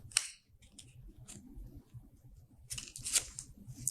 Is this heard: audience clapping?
no